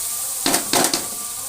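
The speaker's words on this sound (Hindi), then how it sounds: "इसको अच्छी तरह हमने हिला लेना ऐसे करके, चम्मच के साथ आप ऐसे।" A spoon stirring chilli, turmeric and salt in a pan, heard as two quick close scraping strokes over a faint background hiss.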